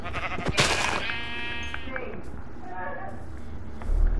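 Sheep bleating in Minecraft, a couple of short nasal bleats in the first second or so, followed by softer game noises, footstep-like taps and a low bump near the end.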